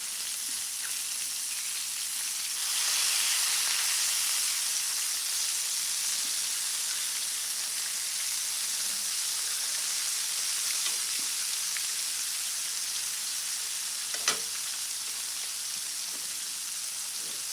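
Food sizzles and fries steadily in a skillet, a continuous close hiss with faint crackles and a brief louder pop, heard alone without talk.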